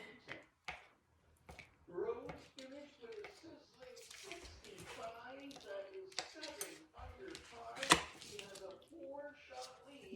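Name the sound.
knife cutting feta cheese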